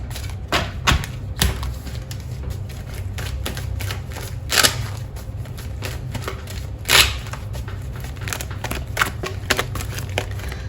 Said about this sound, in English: So let's shuffle some more.